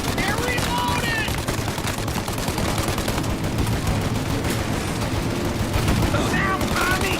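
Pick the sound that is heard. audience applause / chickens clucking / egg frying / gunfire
gunfire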